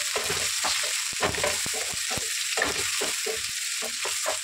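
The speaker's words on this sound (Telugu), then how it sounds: "కొంచెం గోల్డెన్ కలర్ వచ్చే వరకు ఫ్రై చేసుకున్నామండి" Chopped onions and green chillies frying in hot oil, a steady close sizzle broken by scraping stir strokes throughout.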